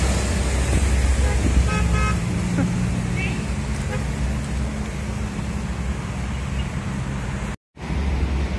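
Putra Pelangi long-distance bus pulling out of the Pasar Rebo agency in Jakarta, with a loud steady engine rumble, a few horn toots early on and busy roadside traffic all around.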